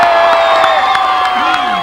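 Audience at a 1988 Cannes television show cheering and applauding for a singer, a dense continuous crowd roar with whoops, alongside a sustained musical tone.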